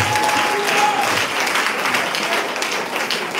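A church congregation breaks into sustained applause and cheering at a worship service, a dense wash of clapping hands filling the room for several seconds with a faint vocal tone beneath.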